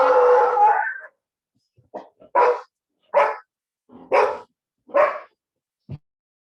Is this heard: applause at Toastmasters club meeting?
no